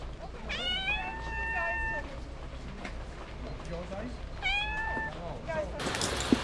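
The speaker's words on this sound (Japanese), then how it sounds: "猫が" A cat meows twice in a war-damaged town, two clear drawn-out calls a few seconds apart, close by over quiet street ambience, with a sharper noise at the very end.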